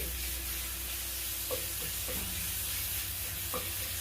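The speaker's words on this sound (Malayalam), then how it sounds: "കുറച്ച് വെളുത്തുള്ളിയും കൂടെ ഇട്ട് കൊടുത്ത് നല്ലോണം വഴണ്ട് കിട്ടട്ടെ." Garlic and onion sautéing in a pan, a soft steady sizzle with a couple of faint stirring taps, close but quiet and continuous, with no voices.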